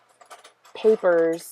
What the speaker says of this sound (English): could you not scramble the Lego so much?